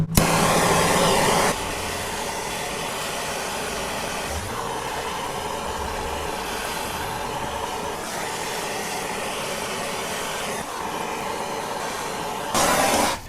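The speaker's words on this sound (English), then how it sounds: "So you saw me with the torch." A torch heats the sleeve of a rear lower control arm bushing, producing a steady close roar that flares louder at the start and end, with no voices.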